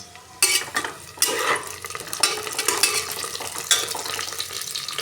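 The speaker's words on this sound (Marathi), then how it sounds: "वाटणाबरोबर अजून जरा भाजेल चांगलं मोठ्या गॅसवर आपल्याला भाजायचं आहे" Onion and green masala paste fry and get stirred in a pan over a high gas flame, giving a close sizzle broken by repeated scraping stirs, with no talking.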